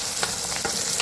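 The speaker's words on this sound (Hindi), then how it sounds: "प्याज को अच्छे से करते हैं फ्राई" Finely chopped onions frying in a pan for a homemade soya chaap dish, a steady close hiss with faint scraping touches and no talking.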